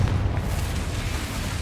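Casting the Confringo fire spell in Hogwarts Legacy sets off a deep rumbling explosion, a dense, sustained boom that carries loudly through the whole brief moment with no voices.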